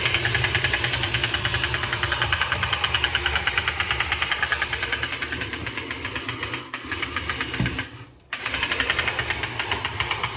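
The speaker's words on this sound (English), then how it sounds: "There's your engine sound as the clicking." A battery-powered vintage tin toy Batmobile from Japan gives off a steady mechanical whir with rapid, even clicking, loud and close, briefly stuttering near the end before resuming, with no talking.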